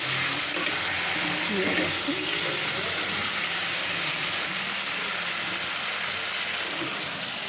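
Water used to rinse a mixer jar hits a hot frying pan and erupts into a loud, steady bubbling sizzle that continues with gentle stirring.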